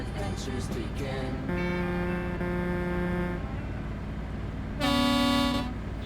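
Truck horn in Euro Truck Simulator 2, a game semi hauling Tesla cars from Berlin to Opole, sounds two steady tonal blasts, a long one then a shorter, louder one, over background music.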